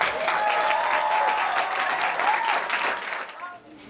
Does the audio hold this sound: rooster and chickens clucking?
no